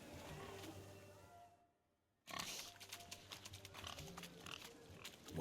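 Pigs oink and grunt in The Witcher 3 video game at a wedding, a cluster of short snorts breaking off into near silence before resuming amid busy outdoor game ambience.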